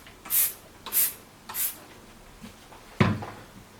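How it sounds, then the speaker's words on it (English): Three quick hissing squirts from a spray bottle wet dirt bike plastic up close, followed by a sharp knock like the bottle being set down. "And spray the plastic as well."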